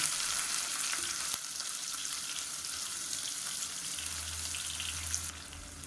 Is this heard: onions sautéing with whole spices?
yes